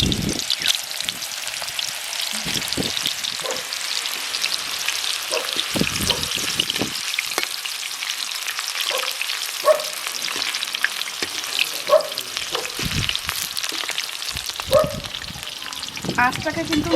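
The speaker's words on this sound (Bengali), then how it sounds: "আঁচটাকে কিন্তু মিডিয়ামে রেখে কলাগুলো ভাজতে হবে।" Raw banana slices fry in hot white oil in a pan over a medium flame, making a dense, continuous sizzle with scattered crackles and occasional stirring clinks, close and unaccompanied by voices.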